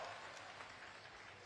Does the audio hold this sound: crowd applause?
yes